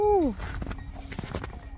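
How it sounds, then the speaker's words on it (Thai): Hooves of a horse-drawn carriage clip-clop in a steady rhythm on a rural German road, moderately close, as people talk nearby. "มีรถม้านั่งด้วย เห็นไหมเพื่อน มีรถม้าด้วยนะ"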